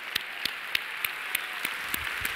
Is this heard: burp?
no